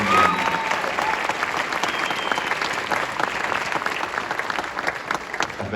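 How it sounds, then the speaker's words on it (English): A crowd at a Special Olympics Utah Dancesport exhibition gives the event volunteers a sustained round of applause, thick and continuous clapping that stays fairly loud throughout. "the marvelous volunteers that are putting this event on also deserve some recognition and a great round of applause"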